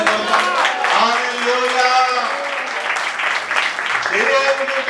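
Congregation in a Telugu Christian church service applauding together, a steady dense wash of clapping and crowd noise that holds for the whole stretch, with a voice audible over it.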